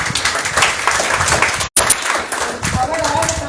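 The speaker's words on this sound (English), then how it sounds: "Give me a great applause." An audience applauds after a talk on medical management of geriatric problems, a loud, dense burst of clapping that cuts out for an instant and then carries on evenly.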